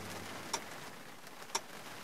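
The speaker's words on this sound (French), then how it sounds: "On entend juste la pendule du salon égrener les secondes." A living-room pendulum clock: two sharp, faint ticks about a second apart against a quiet room hiss, a slow steady rhythm.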